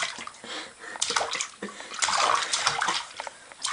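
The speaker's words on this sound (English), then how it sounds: "Are you splashing? Are you splish splashing?" A baby splashes and sloshes water in a bathtub, busy irregular splashes running throughout while an adult talks softly over it.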